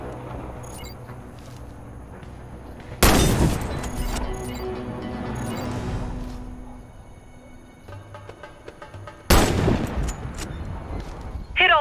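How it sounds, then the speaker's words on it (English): Sniper rifle shots ring out in Warface while firing at targets: two loud, sharp cracks several seconds apart, each followed by rattling echoes and clatter, with quieter mechanical handling noises between them. "Hit all the targets with your Sniper Rifle."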